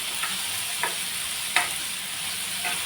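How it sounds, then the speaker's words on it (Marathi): A spice mix is dry-roasted in a pan: a soft, continuous hiss with a few distinct scraping strokes of the spatula, spaced about a second apart, heard close and alone. "हे सर्व आपल्याला छान भाजून गार करून मग मिक्सरला वाटून घ्यायचं आहे"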